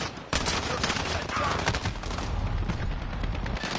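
Call of Duty multiplayer match with dense, loud gunfire: rapid automatic bursts and overlapping shots running continuously, with a sharp burst early on and battle noise throughout.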